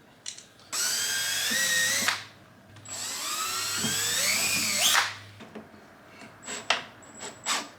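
A cordless power drill drives small self-tapping screws while fitting rock lights, running in two long whining bursts that rise in pitch as each screw seats, then a few short blips close by.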